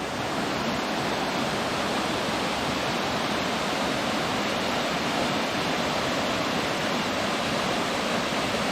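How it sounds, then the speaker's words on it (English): A small waterfall at the base of a cascade pours steadily, a dense, continuous rushing roar of falling water that stays loud and unbroken from start to finish, with no voices. "So we're now down here at the base of one of the first little waterfalls."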